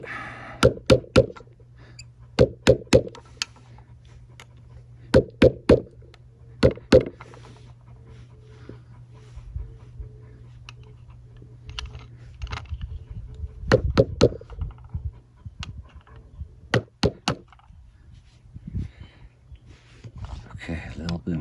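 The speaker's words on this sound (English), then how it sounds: "Okay, a little bit more banging." A hammer strikes a copper cuff during metal texturing, landing in quick clusters of two or three sharp, ringing taps with pauses between. Softer knocks and some talk follow later.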